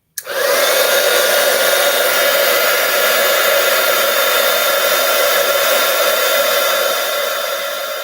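A heat tool melting gold embossing powder on a card switches on with a click and then blows a loud, steady, close whoosh that holds for the whole stretch, with no voices.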